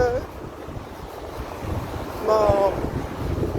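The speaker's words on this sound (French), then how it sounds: "Mais bon, là, il y a un petit vent." Steady low rumbling wind buffets the microphone throughout, swelling louder near the end.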